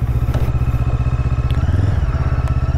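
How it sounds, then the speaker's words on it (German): A Brixton Crossfire 500 X motorcycle pulling away, its engine a fast, steady low throb with regular pulses and a brief rise in pitch midway, close and fairly loud with no talk. "Ja, ich fahre einfach mal los und werde euch mal so ein bisschen berichten, wie sich das Ganze beim Fahren anfühlt."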